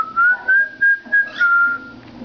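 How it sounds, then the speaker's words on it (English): A pet cockatoo whistles a clear, bright run of five short rising and held notes, close and loud, with no talking over it. "You want to whistle, Dixie?"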